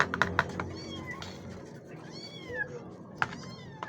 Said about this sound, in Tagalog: May pusa po dito, may pusa.